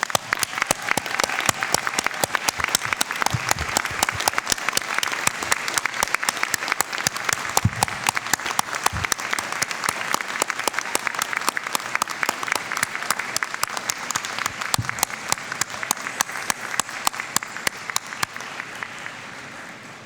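Sustained applause from a large convocation audience honouring families and friends, dense steady clapping for about twenty seconds with no talk over it.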